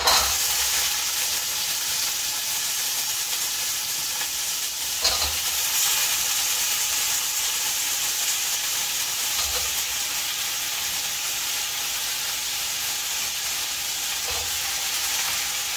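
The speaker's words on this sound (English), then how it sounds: "You hear that sizzling, guys?" Pumpkin curry sizzling in hot oil, an even, loud hiss and crackle of frying lasting about sixteen seconds, with a few faint stirring knocks and no voices.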